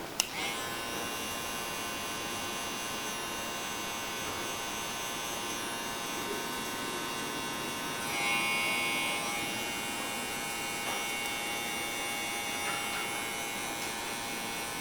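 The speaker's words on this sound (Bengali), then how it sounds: "আমি একটা মেশিন দিয়ে আপনাদের কাটে দেখালাম" An electric hair clipper buzzes steadily and close throughout a taper fade haircut, its tone shifting slightly partway through as it moves through the hair.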